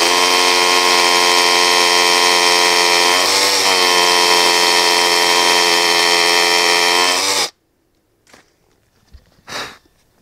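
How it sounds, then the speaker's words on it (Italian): A hammer drill with a Parkside SDS bit bores into reinforced concrete, making a loud, close, steady high-pitched whine and rattle with a slight dip partway through. It stops abruptly after about seven seconds and is followed by a few faint knocks. "il primo buco lo abbiamo fatto direttamente sul cemento armato"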